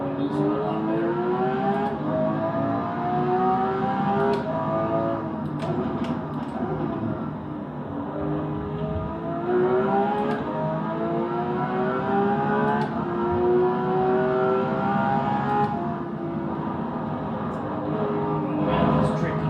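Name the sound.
car engine driving laps in the video game Assetto Corsa EVO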